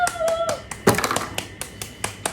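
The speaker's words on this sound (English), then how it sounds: "Clap." A group of people clap their hands in a quick, uneven burst of sharp close claps, with a brief vocal sound at the start.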